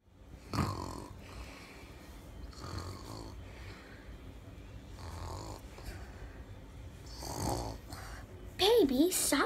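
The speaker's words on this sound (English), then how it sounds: "Baby, stop snoring." Rhythmic snoring, several rasping inhaled snores spaced a couple of seconds apart, close and fairly quiet, ending with a brief burst of squeaky, warbling sound.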